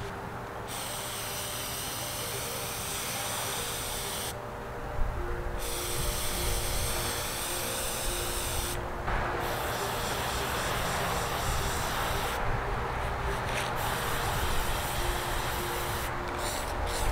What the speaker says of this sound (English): We're going to be spraying the fridge shelves with this plasti-dip sort of spray.